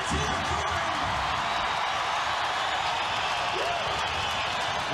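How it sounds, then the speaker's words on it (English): Crowd at a 2003 rugby league match between Penrith and the North Queensland Cowboys, a steady, broad roar of cheering and voices that fills the whole stretch without letting up, heard from the stands at a distance. "The crowd enjoying it now."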